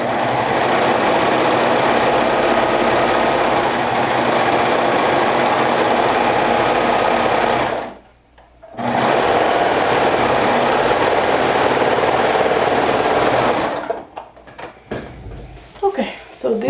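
A sewing machine runs steadily while top stitching a rainbow dress, a continuous mechanical whir that pauses briefly, then resumes before stopping amid handling clatter near the end.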